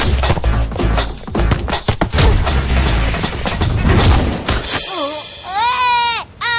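Firecrackers lit during a street football game set off a dense, rapid crackle of loud bangs for about five seconds, followed by rising and falling whistling tones.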